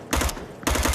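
An LMG in the VR shooter Onward fires two loud, close bursts of rapid automatic shots, each lasting about a fifth of a second, separated by a short pause.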